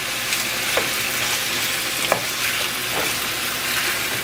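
Chicken stir-frying with chili garlic sauce in a pan, a steady close sizzle with a few brief scraping stirs.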